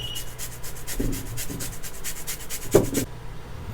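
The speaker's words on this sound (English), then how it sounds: "So I'm gonna got me a lemon, do some lemon zest." A lemon is rubbed across a zester, giving a run of soft repeated rasping strokes close by, with a few louder scrapes near the end and no talk.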